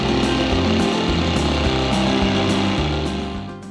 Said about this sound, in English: This blade at any time can deflect as it's cutting through the piece of material